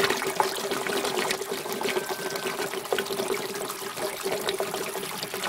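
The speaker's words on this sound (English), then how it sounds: "That's the siphon running. What's actually happened, and you can see the water being pulled in." An aquaponics bell siphon runs, water rushing and gurgling as it is drawn through, a steady trickling flow with a faint tone, close and alone.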